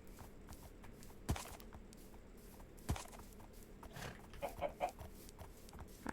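Chickens clucking in the video game Minecraft, a few soft, scattered clucks at low level with two sharper thumps, heard alone with no talk.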